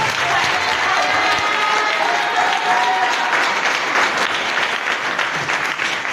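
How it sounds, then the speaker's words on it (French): A church congregation at an evangelical service claps and cheers together in loud, dense, sustained applause that fills the whole stretch, with voices mixed into the crowd noise. "Acclamons le Seigneur."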